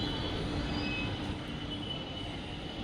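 A metro train passing at a station, heard as a steady low rumble and rolling rail noise with faint high squeals, at moderate distance without speech.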